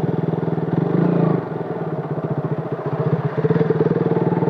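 Motorcycle engine under way on a ride toward Gangtok, a steady, loud, close mid-pitched rumble with rhythmic firing pulses that swell and ease as the throttle changes; no talking.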